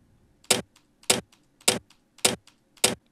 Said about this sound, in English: And I also have a flick sound.